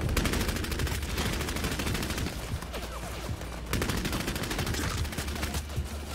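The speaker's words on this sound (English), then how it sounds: "shooting a crossbow bolt at the wall" A crossbow bolt fired at a wall in the game Bloodhunt, set inside a loud, rapid, continuous burst of gunfire and impacts that fills the scene from start to finish.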